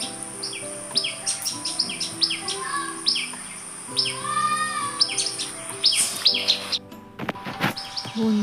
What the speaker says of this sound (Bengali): এই পাখির আওয়াজটা